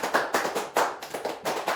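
Sharp rhythmic hand claps from a classroom group performing a spirit cheer, landing in quick clustered beats, close and fairly loud with no talking.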